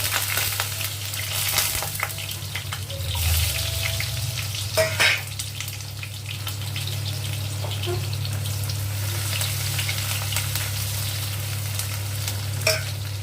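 Cumin seeds and sliced garlic fry in hot oil in a kadhai, a steady close sizzle with occasional stirring scrapes and pops, continuous over a low background hum.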